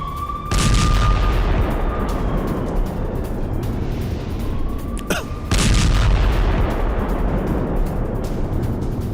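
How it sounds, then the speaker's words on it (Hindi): Bombing near the Rafah border in Gaza, with two loud, heavy booms a few seconds apart, each followed by a long rumbling roar that fills the scene, and a faint whistling tone drifting over the first blast. "राफा बॉर्डर के पास आईडीएफ ने बम बरसाए हैं।"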